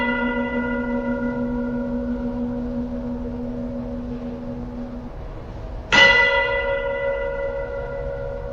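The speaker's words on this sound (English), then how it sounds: "testing the frequency of the church bells chiming" Church bells ring with a sustained, humming tone, and a fresh loud strike near the end sets off a new ringing decay, with no voices.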